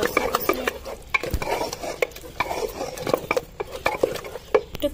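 Lentils being stirred and sautéed in a pot for Hyderabadi beef and mutton haleem, with repeated spoon scrapes and clanks against the metal over a low sizzle.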